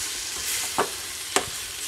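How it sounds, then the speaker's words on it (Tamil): A spoon stirs tomato and potato curry in a pan, with a soft background sizzle and two short scraping strokes against the pan, close and alone. "நல்லா பரட்டி விட்டுக்கலாம்."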